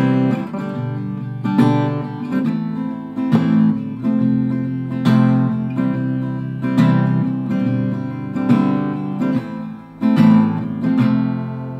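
Acoustic guitar strums through the second verse of a song in a steady repeating rhythm of down and up strokes, close and fairly loud with regular accented chord hits and no voice.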